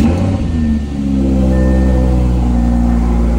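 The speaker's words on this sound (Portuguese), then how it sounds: "Vamos ligar o R8. Aqueceu o R8, tem que esquentar o carro." Audi R8 V10 engine running loud and close, a deep steady rumble that swells into a rising rev partway through and holds strong to the end.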